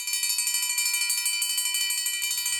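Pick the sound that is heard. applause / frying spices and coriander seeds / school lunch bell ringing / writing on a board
school lunch bell ringing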